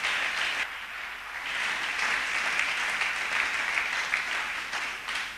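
A church congregation applauds steadily, a sustained wash of many hands clapping at moderate distance with slight swells, no one speaking over it.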